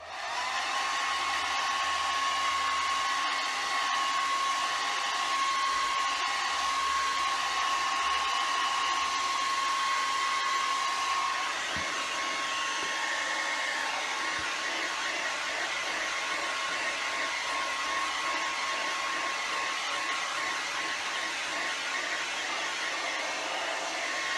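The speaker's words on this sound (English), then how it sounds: "I'm gonna dry that with my hair dryer real quick" A hair dryer blows steadily and loudly for the whole stretch, a constant whooshing roar with a faint whine, and no talking.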